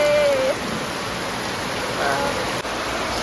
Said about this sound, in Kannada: ಮಾರ್ನಿಂಗ್ ತುಂಬ ಜೋರು ಮಳೆ ಬರ್ತಾ ಇದೆ